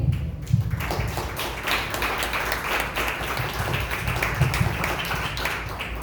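A church congregation claps for Christ during a sermon, with dense, continuous applause filling the space for several seconds at fairly close range.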